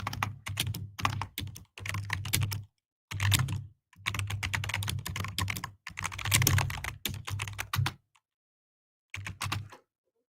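Close, steady typing on a computer keyboard in long runs of rapid key clicks, broken by brief pauses and ending in a short final burst.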